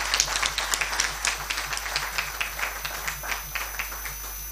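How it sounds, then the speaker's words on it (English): An audience at an annual day event claps for award winners, a continuous patter of many hands with no voices, steady and fairly close for a few seconds. "A big round of applause to all of them, please."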